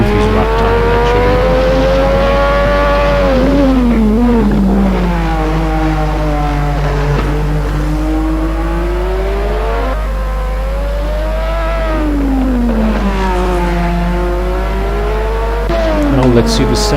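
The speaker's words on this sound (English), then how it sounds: "throttle blipping, you can hear that, and acceleration all the way down the straight" Lotus 98T Formula 1 race car in the Assetto Corsa racing game, its engine screaming loudly, with throttle blips and rising and falling revs as it accelerates down a straight, continuous and close for the whole stretch.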